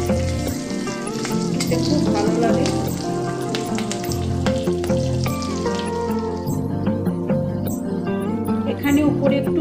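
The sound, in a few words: frying whole garlic cloves in oil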